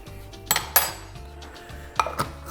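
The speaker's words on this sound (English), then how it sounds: "pretty much just stir all this in. Mix it with the black bean sauce that was already there and the chipotle sauce" Minced garlic is stirred into black bean and chipotle sauce in a pan, with a metal utensil clinking and scraping against the pan in several distinct knocks, near and fairly loud.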